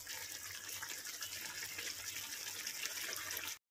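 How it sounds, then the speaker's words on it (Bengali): Water poured into a pan of spicy katla fish curry, a steady broadband gushing splash running close and continuous for about three and a half seconds before cutting off abruptly. "এবার খালি মাছগুলো দেবো আর অল্প একটু জল দেবো"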